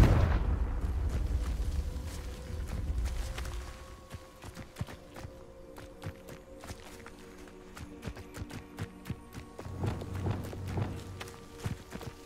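A Confringo blast spell explodes in the video game Hogwarts Legacy, a loud booming burst at the start that fades out, followed by quieter footsteps, clicks and game effects.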